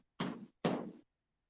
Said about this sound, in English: Can you knock louder? Like this?